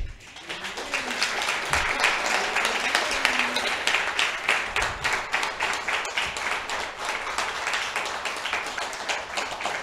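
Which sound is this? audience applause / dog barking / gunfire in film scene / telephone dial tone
audience applause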